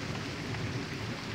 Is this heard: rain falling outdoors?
yes